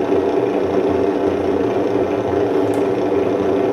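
A simulated engine idle plays from the sound unit of a Tamiya XV-01 RC car. It is a steady, close, mid-loud rumble with a low pulsing throb that stays even for the whole stretch, with no one talking.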